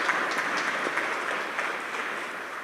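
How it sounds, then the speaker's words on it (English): Applause at a graduate hooding ceremony, honoring a classmate: steady, moderately distant clapping from a seated audience with no talk over it. "I'd like to take a moment and just give Dylan a little bit of applause for"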